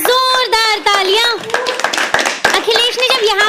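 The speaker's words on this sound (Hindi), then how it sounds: "अखिलेश के लिए एक बार जोरदार तालियां" Lively audience clapping at an open-mic poetry night for the poet Akhilesh, with sharp claps scattered under a loud, tuneful voice that dominates.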